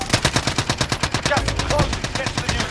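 Rapid bursts of automatic gunfire crack in a first-person shooter video game, rhythmic and close, repeating steadily for several seconds with excited players calling out to each other underneath.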